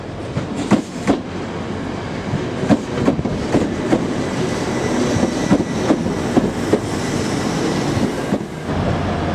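A passenger train moves through Manchester Piccadilly railway station, with rhythmic clickety-clack wheel beats over rail joints and a rolling rumble rising and falling at moderate distance.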